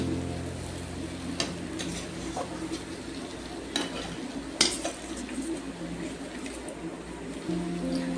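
Potatoes and masala for katla fish curry are stir-fried in a pan, giving a low, steady sizzle with occasional sharp clinks of a utensil against the pot.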